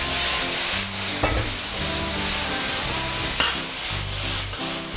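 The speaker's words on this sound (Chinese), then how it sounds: "快速下入土豆丝，然后去翻炒它" Shredded potatoes stir-fry in a wok with oil, dried chili pieces and scallion, giving a continuous loud sizzle broken by repeated scraping strokes of the spatula.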